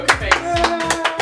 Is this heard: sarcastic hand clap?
yes